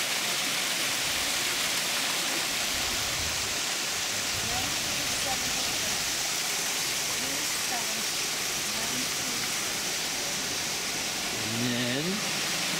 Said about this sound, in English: here's the little waterfall.